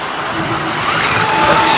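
A slot car laps a slot racing track with a loud, steady electric motor whine that rises in pitch as it speeds around, while a commentator talks over it.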